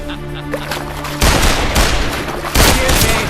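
Gunfire and booms from the animated film The Dark Knight Returns roar in loud, dense bursts, with a sudden heavier blast partway through and another near the end, over a droning score.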